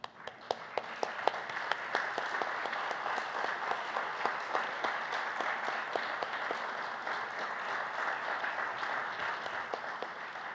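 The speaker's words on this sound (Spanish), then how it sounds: "No sé si pudiera ponerse de pie para que le demos un aplauso." An audience applauds warmly at a formal centennial ceremony, steady clapping from many hands that starts abruptly, holds a constant level for about ten seconds and shows crisp individual claps on top.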